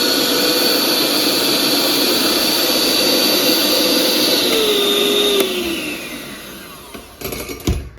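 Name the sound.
Milux hand mixer running on turbo speed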